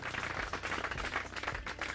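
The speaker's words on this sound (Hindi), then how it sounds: "ये तालियों की गड़गड़ाहट पहाड़ों से आ रही है, राजस्थान के माउंट आबू से आ रही है" A gathered audience at a village chaupal meeting in Mount Abu, Rajasthan, applauding with dense, steady clapping that stays fairly faint and even throughout.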